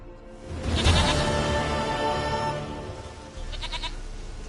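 A goat in the video game Witcher 3 gives two bleats, a longer loud one early and a short trembling one near the end, over a steady ambient game backdrop.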